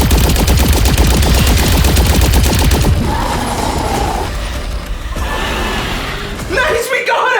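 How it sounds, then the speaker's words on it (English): Rapid blaster gunfire aimed at a creature in a Poppy Playtime factory video game, loud and continuous for about three seconds, then fading into a rumbling game background. "I don't care if he's cute, we need to shoot this thing!"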